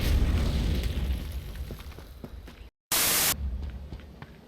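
Steady loud rumbling noise, then a sharp cut to silence followed by a brief blast of harsh static-like noise, a car exploding in the game H1Z1: King of the Kill.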